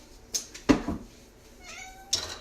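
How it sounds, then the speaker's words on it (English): A pet cat named Lacey meows in a kitchen, a few short close calls spread over a couple of seconds with quiet gaps between them. "Our cat Lacey says hi."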